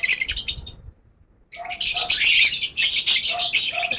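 Pet birds chirping in dense, bright, close bursts of high tweets, with a brief pause before the chatter resumes louder.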